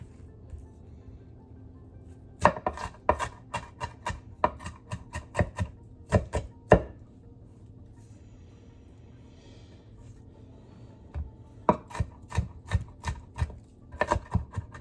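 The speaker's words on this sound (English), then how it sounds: "Now it's time to get these onions and garlic chopped up." Knife chopping onions and garlic on a board for homemade marinara sauce, in two bursts of quick rhythmic close taps separated by a quiet pause, with a final flurry of chops at the end.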